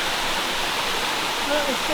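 Steady, close rush of a small waterfall in Northern Thailand, broadband splashing water filling the whole moment with no breaks.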